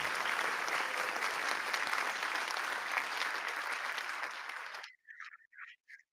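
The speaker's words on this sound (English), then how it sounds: "A round of applause for our honors silver cords." Audience applause at a senior awards night for honors students, a steady wash of clapping that cuts off abruptly about two thirds through, followed by a few brief spoken words.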